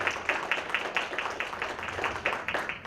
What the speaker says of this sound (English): let's give them a big round of applause as our honored guests today